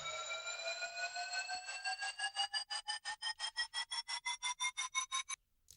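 A harmonic synth lead slides gradually upward as auto-pan sweeps it from side to side, the motion turning into a fast rhythmic throb in the second half before cutting off abruptly near the end.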